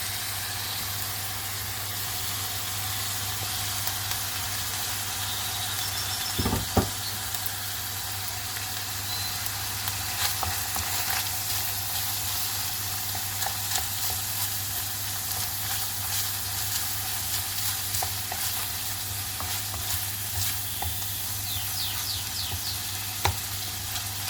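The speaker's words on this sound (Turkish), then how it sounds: "Şimdi soğanlarımızı ve biberimizi ekliyoruz." Onions and peppers sizzle steadily in a pan while a stuffed-eggplant dish is cooked, giving a continuous close frying hiss with occasional stirring clatter and no talk.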